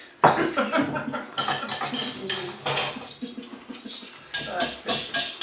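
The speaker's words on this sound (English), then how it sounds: "Whisk this well with a whisk." Eggs whisked for an omelette in a bowl, a busy run of rapid metallic clinks and scraping taps that starts up after a short pause and keeps going, with a couple of brief stops.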